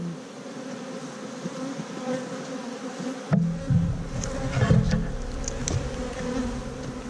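Honeybees at an open hive under inspection hum softly, the drone growing louder and closer partway through as more bees move near.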